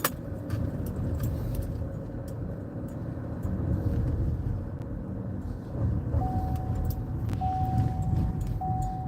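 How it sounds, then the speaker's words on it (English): A car driving, heard from inside the cabin: a steady low road rumble and engine drone throughout, with a faint repeating chime tone near the end. "I'm actually driving my car right now"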